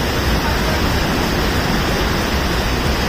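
A tiered waterfall on a hiking trail in Japan roars as a steady, dense wash of rushing water, loud and unbroken throughout.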